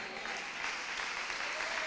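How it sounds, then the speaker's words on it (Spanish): Congregation in a Spanish-language church service applauding steadily, a dense, continuous wash of clapping filling the room without a break. "Alguien dele un aplauso a Dios."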